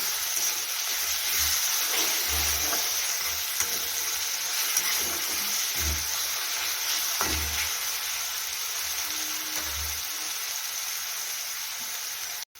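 Thecha, a chili-garlic paste, fries in a pan with a continuous close hiss and sizzle, broken by occasional low knocks and scrapes as it is stirred, with no talking.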